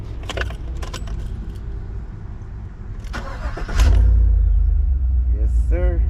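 Keys jangle in a few quick metallic bursts near a car, and then a low engine rumble swells up and runs steadily underneath. A voice is heard briefly.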